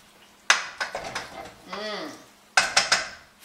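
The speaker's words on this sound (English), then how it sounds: "I'm going to stir it in so it's nice and saucy" A spoon stirs wine into bolognese sauce in a pot, several sharp metallic scrapes and clinks in two bursts with a brief squelch between them.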